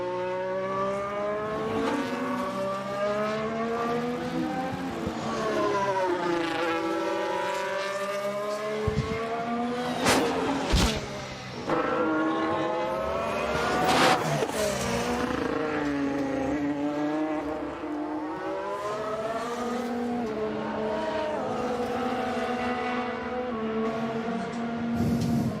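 Sergio Perez's Formula 1 car on race runs in 2022 Spanish Grand Prix practice, its engine howling steadily as it rises and falls through gearshifts down toward turn 1, with sharp mechanical crackles midway and no talk.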